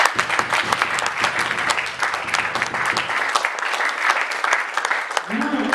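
A church congregation breaks into dense, sustained applause, close and loud, with voices heard through the clapping.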